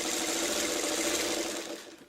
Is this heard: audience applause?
no